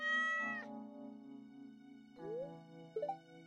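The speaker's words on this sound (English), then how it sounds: "I do see that cat." A cat in the video game Stardew Valley gives a clear drawn-out meow, then a couple of shorter rising meows, close and fairly soft with no talk.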